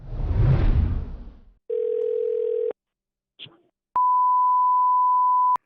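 A phone dials a coin shop: a short burst of noise, then a steady dial tone, a faint click, and a single long ring tone, with no voices.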